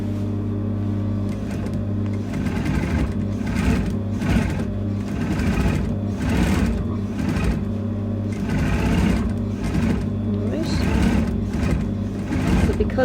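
A sewing machine runs steadily and close, its motor hum and rapid needle chatter pulsing in short bursts as it stitches the back row of a curved cape lining, with no speech.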